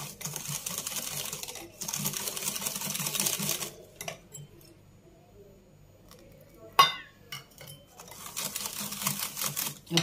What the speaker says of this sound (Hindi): थोड़ा सा गर्म दूध ऐड करेंगे और इसको मिक्स करते जाएंगे।